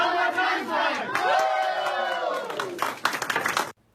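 A sports team shouts its rhythmic chant together inside a dressing room, a loud crowd of voices in unison that ends in a burst of claps and cheering.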